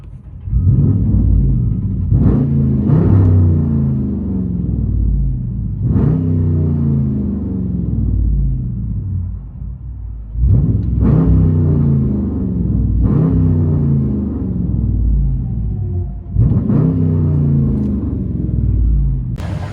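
Deep, rumbling exhaust of a RAM 1500 5.7L HEMI V8 with true dual straight pipes, heard from inside the cab, swelling in repeated revving bursts with a steady throaty drone between them.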